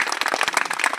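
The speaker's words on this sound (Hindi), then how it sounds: "तो जो हाथ उठाए उसी हाथ के उठा के ताली जोरदार बजा लो अपने लिए" A seminar audience claps for itself in a brief, dense burst of loud applause filling the whole moment.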